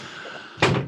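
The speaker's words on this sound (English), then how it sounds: "Can you close the door, please?" A door is pushed shut in a home, giving a single loud broadband thud near the end after a quiet room tone, close by and with no talk over it.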